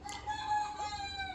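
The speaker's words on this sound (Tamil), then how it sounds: "கோழி கூவுகிறது" A domestic rooster crows once at close range in the early morning, a loud harmonic call held steady through its length over a faint background.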